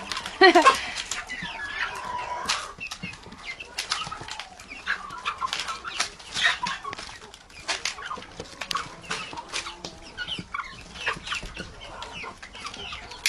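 Domestic chickens cluck softly and repeatedly inside a warm greenhouse, one small crested hen among them, with a brief burst of wing flapping near the start and steady low-level activity throughout.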